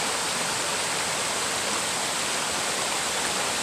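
Apa-Apa Falls in Agusan del Norte, a steady, dense roar of falling water, close and continuous with no voices over it.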